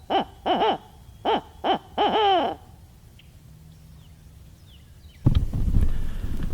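A series of deep, rhythmic owl hoots in Missouri woods during turkey hunting, five calls rising and falling in quick succession, then quiet before a gust of wind rumbles in.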